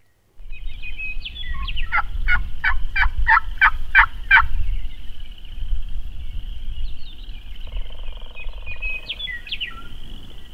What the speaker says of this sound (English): Got a hen yapping behind me. She could have gobblers with her.